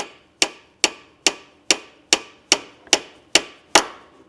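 Hammer striking a tool being driven into a 1970–1991 Mercedes V8 engine, with ten sharp, evenly spaced metallic blows about every 0.4 seconds, each ringing briefly, close and loud with no talk.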